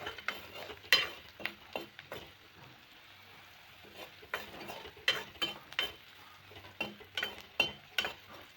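Irregular scraping and clattering strokes in a pan of frying pumpkin and potatoes, a stirring rhythm over a quiet frying hiss, fairly close and moderately loud.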